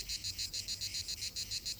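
Cicadas buzz in a loud, fast train of even pulses, each one a harsh, rasping burst, with a steady beat throughout.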